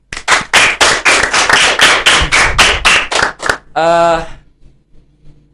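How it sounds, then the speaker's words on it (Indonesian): A rapid, even string of loud, close claps ends after about three and a half seconds, followed by a short tonal sound and then near quiet. "Tepuk tangan."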